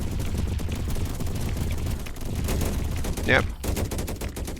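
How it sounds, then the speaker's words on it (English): Laser cannon turrets firing in a swarm-defense video game, a dense continuous crackling barrage of rapid shots, loud and unbroken throughout, with a brief voice heard over it. "Lasers doing a great job as my new cannon turrets."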